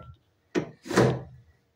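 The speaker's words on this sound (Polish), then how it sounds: "Zamkniemy tutaj te drzwi." A door on a wooden railway carriage at a rail museum swings shut: a short soft knock, then a fuller wooden thud with a brief rattle as it closes, fairly close and with no talking.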